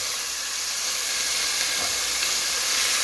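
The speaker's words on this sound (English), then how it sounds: "Just want to sear each side, make sure each piece gets seared nice and well." Beef stew pieces sear in a hot pan, giving a loud, dense, unbroken hiss of sizzling up close with no speech.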